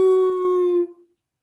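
Again a man mimics a howling dog with his voice, one long drawn-out tonal howl that tapers away into silence, heard alone.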